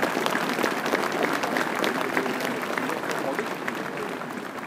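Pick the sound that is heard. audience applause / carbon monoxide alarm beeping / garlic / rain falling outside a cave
audience applause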